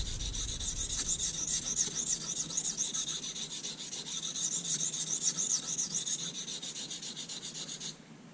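A knife edge grinds steadily on an oiled Arkansas sharpening stone, giving a continuous close rasping scrape in back-and-forth strokes that stops just before the end.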